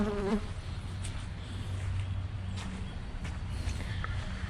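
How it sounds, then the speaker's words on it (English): Honey bees buzz continuously in a dense swarm, a close, steady hum with individual insects whining past. "we got the majority of them bees that were in that bucket in that box"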